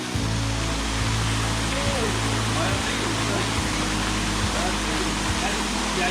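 The Erfelek Tatlica waterfall in Sinop, Turkey, gives a steady, loud, unbroken roar of rushing water that fills the whole stretch, with a low droning hum beneath it.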